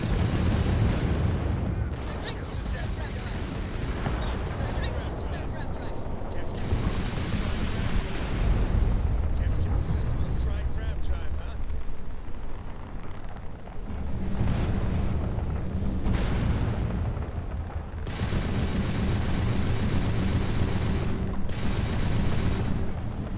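Rapid bursts from a spaceship's main autocannon and standard missiles in the MN-T5 "Mantis" space-combat game, loud dense volleys separated by brief lulls, repeating over the whole stretch.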